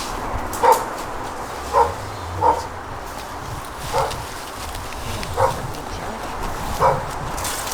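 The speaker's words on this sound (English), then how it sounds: "There's Doggy." A small dog at a car graveyard full of old Jaguars, Beetles and Minis gives six spaced, yappy barks, each one sounding somewhat distant and fairly faint. Wind rumble and background noise sit underneath.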